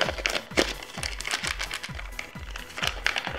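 A plastic food packet from a British Army ration pack is handled and crinkled close up, giving repeated sharp crackles with soft thumps in an irregular rhythm.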